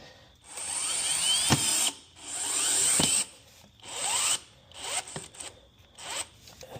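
A cordless power drill with its torque turned down spins plastic screws into the engine cover of a BMW X7 M50i, five separate whirring bursts with brief pauses between, each ending in a click as the clutch slips.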